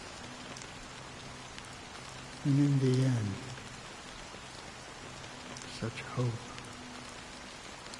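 Steady rain patters across the whole stretch at moderate volume, a soft continuous hiss with a voice talking briefly over it.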